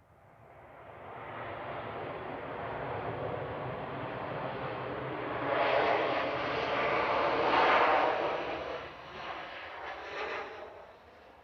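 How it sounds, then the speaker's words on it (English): An air tanker aircraft approaching Manchester Airport, a broad, continuous jet roar that swells to a peak midway and then eases off, heard from a distance with no talking. "air tanker should be here any second"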